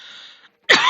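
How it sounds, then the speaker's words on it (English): A sick streamer gives a single sharp, close cough or throat-clearing burst that follows a faint hum and a brief silence. "Yeah, I'm still coughing."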